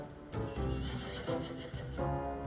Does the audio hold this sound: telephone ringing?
no